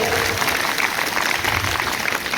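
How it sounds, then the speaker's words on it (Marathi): Audience applause after a speech at a municipal school's Republic Day event, dense continuous clapping from a crowd, moderately loud and steady across the whole moment. "जोरदार टाळ्या वाजवायला पाहिजे"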